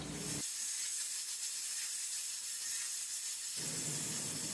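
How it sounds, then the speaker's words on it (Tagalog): A pressure cooker softening pork pata on medium heat lets out a loud, steady hiss of escaping steam that thins briefly in the middle and then comes back at full strength, with no voices. "Higpitang mabuti ang pressure cooker at lutuin ko ito ng 30 minutes sa medium heat"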